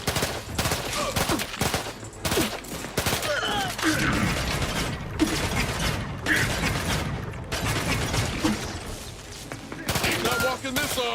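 Shotgun blasts and combat noise in The Outer Worlds 2, dense repeated heavy shots and clattering mechanisms in a loud continuous firefight lasting many seconds.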